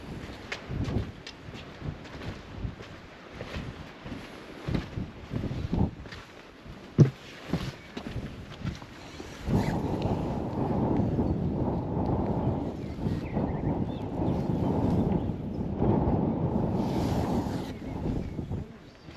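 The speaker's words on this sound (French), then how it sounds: "Il y a un vent de fou." Strong wind buffets an outdoor walk around a medieval hilltop village, first in scattered gusts and thumps, then as a loud, continuous roar of microphone wind noise through the second half.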